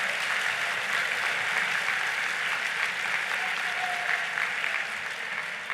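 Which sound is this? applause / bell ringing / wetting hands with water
applause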